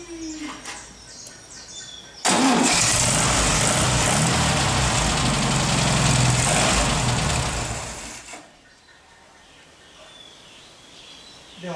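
An old, rusty Volkswagen Beetle engine catches on the first attempt and runs loud and steady close by for about six seconds, then cuts off abruptly, leaving quiet background.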